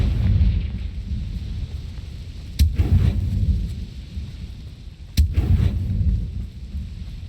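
Two booming blasts from the Confringo spell in Hogwarts Legacy, each a sharp crack followed by a deep rumbling roll that fades, spaced a few seconds apart over low ambient rumble.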